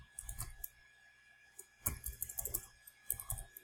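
Someone types a short note on a computer keyboard, with quiet, close clicks that come in small clusters separated by brief pauses, faint overall.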